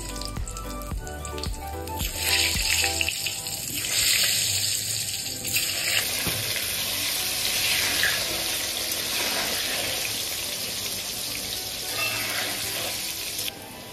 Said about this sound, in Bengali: আমি প্রথমে আলুটাকে ভেজে নিচ্ছি